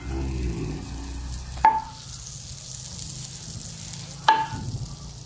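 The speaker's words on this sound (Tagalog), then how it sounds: "I-melt natin yung ating butter." Butter melting and sizzling in a pan for buttered garlic shrimp, a steady low frying hiss with two sharp metallic clinks of utensils against the pan.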